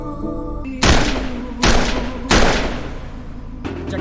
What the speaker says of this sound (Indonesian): Vidya pun mengambil pistol Milan lalu menembaknya berkali-kali dengan tatapan yang begitu dingin dan penuh amarah